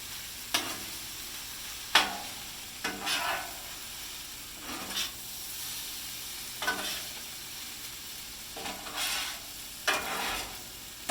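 Fried rice with teriyaki chicken being stir-fried in a pan, a soft steady sizzle broken by repeated scraping strokes of a utensil every second or so, close and fairly quiet.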